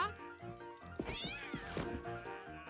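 An animated cartoon cat voice meows a few times, with drawn-out, wavering cries over a busy, dense background.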